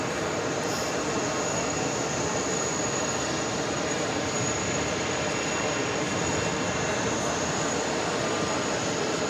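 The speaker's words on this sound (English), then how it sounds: "So this A330 heading to Tel Aviv, heading out to 31 that left." An Airbus A330 jet departing from JFK airport, a loud, unbroken broadband engine roar that fills the whole stretch without letting up.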